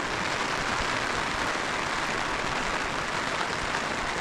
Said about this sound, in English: Probably can't even hear me very well with the rain and the umbrella.